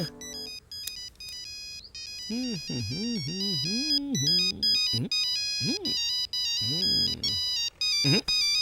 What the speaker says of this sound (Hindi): तब से फोन की रिंग बज रही है